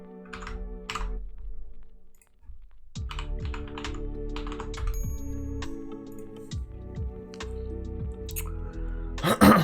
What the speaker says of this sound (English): Oh, I've got to type the whole thing out again.